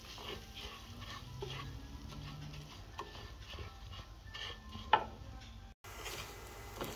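Homemade breadcrumbs fry in melted margarine in a pan, giving a soft, steady sizzle with faint stirring scrapes and an occasional light clink. The sound stays quiet and close throughout.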